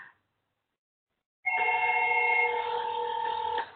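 A SIP master phone rings through a ZYCOO X10 paging gateway, a steady electronic ringing tone that starts abruptly after a short silence and holds for about two seconds, close and fairly loud.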